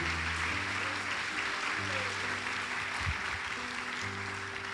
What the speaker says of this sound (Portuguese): Você pode aplaudir o Senhor? Por favor, faça com alegria.